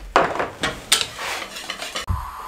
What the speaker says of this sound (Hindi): अच्छे तरीके से सब चीज़ों को मिक्स कर लें।